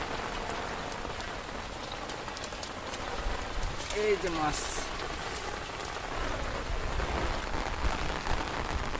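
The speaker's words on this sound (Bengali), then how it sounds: "মেঘ আর বৃষ্টি মেঘ আর বৃষ্টি" Heavy rain pours steadily in strong wind, a dense, continuous hiss, with a short bit of talking partway through.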